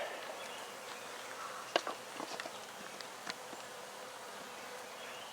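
A steady, dense drone of honey bees buzzing around a hive, with a few brief sharper buzzes of individual bees passing close against the continuous hum.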